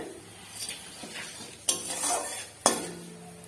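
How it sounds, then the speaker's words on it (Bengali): Cumin seeds tempering in hot oil in a wok, with a soft steady sizzle, light stirring scrapes and two sharp metallic clinks of a utensil against the pan. "কড়াইতে একটু পরিমাণ মতো তেল দিয়ে দিচ্ছি, এরপর জিরে ফোড়ন দেবো"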